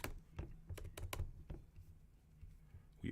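A computer mouse clicks while shapes are edited in Adobe Illustrator, with quiet, sharp, scattered clicks, some in quick pairs, close up with no talking.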